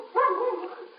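A single dog's bark or yelp, a short, close vocal burst with a dry, muffled radio-like quality that quickly tails off.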